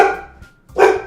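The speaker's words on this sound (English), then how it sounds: "That's what happens when you have dogs that they bark at nothing." Dogs barking indoors, two close, loud bursts with a short gap between them, no talk.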